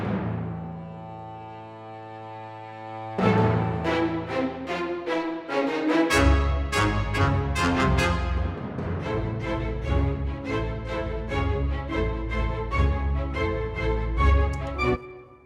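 Orchestral action cue for a Civil War shootout scene, opening with sustained low tones before dense, driving percussion and rhythmic brass-like stabs enter, building into a loud, busy, continuous texture with no talking.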